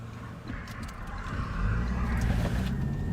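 A passing car driving erratically, heard from inside a moving car during a DoorDash delivery shift: a steady low road rumble that swells into a louder engine roar as it goes by, with no talk.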